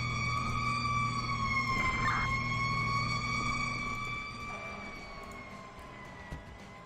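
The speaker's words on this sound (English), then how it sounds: "I can hear the other engine coming." Fire engine siren in the Emergency 4 emergency-response game, a loud steady wailing tone that holds then slowly fades as it passes, alone without talk.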